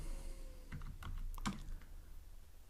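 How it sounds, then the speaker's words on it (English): Short bursts of keystrokes on a computer keyboard while entering code, a few soft clicks in quick succession, quiet and close with no talking. "So I'll type here"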